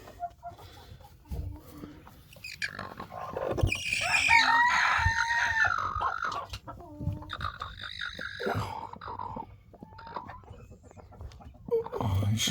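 A broody Brahma hen sitting on eggs clucks and makes loud, agitated vocal calls close by, a long rising squawking phrase in the middle with shorter clucks around it.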